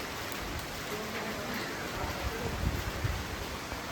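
Steady rain-like patter of underground spring water at a temple, a dense even hiss with soft splashing throughout, no voices.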